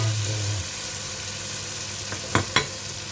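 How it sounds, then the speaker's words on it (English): Bell peppers fry in a pan with a steady close sizzle, broken by a couple of sharp clinks from stirring near the end. "I'm frying the bell peppers here separately in a pan, getting them ready."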